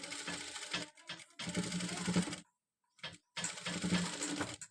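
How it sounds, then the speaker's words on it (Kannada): A sewing machine stitches a hook and eye strip in several close, whirring runs of rapid needle strokes, with short pauses and one clear silent gap between bursts. "ನೋಡಿ ಈ ಥರ ಸೆಂಟ್ರಿಗೆ ದೊಡ್ಡ ಹೊಲಿಗೆಯಲ್ಲಿ ಸ್ಟಿಚ್ ಮಾಡಿದ್ದೀನಿ"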